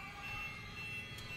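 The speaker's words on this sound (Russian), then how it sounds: "Что за сирена вообще?" Alarm siren in the video game Dead Space, a steady droning electronic wail with layered tonal harmonics, continuous and moderately loud over a low rumbling background.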